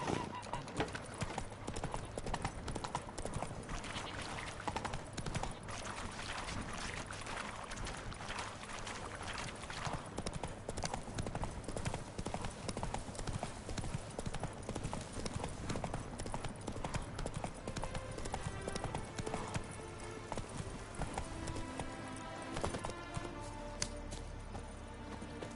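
Hooves of a galloping horse in The Witcher 3: Wild Hunt, a steady rapid clip-clop running under a dense game soundtrack and effects, with an occasional whinny and someone speaking briefly.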